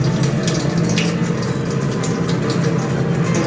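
A newly connected farmhouse sink sputters water as air clears from the supply line, giving a loud, continuous rush broken by irregular splashing bursts close by.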